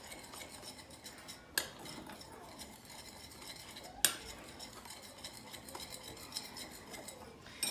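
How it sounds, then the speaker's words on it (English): Dry keto pancake ingredients, including baking powder, are stirred in a bowl with a utensil, a faint continuous scraping broken by a few sharp metallic clinks against the bowl's side. "now we're gonna mix well our dry ingredients"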